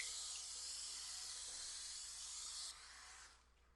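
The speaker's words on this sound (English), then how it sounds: "could you spray this evenly?" A steady, close hiss of cooking spray from an aerosol can, running continuously for about three seconds before cutting off and fading.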